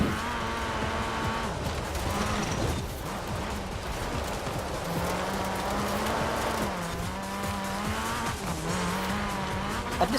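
A Corsa race car in Forza Horizon 4 corners hard, its engine droning and shifting pitch with repeated tire squeal and skidding, steady and close throughout.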